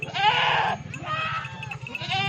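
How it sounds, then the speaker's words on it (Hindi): A goat bleats loudly up close in two drawn-out, wavering calls, then starts a third, with some faint background noise between them. "बड़ी ज़बरदस्त क्वालिटी की बकरी है"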